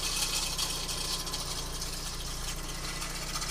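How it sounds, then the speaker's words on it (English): An idling Peugeot 405 Mi16 engine with a constant metallic rattle from a loose heat shield buzzing over the low rumble, close and steady throughout. "That scary sound you hear, that's a heat shield."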